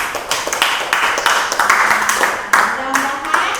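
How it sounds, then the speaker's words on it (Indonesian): Children clap their hands in a classroom at the end of a Buddhist religious lesson, a series of sharp, fairly loud claps under a teacher's voice. "Kita kasih tepuk tangan untuk kalian semuanya ya."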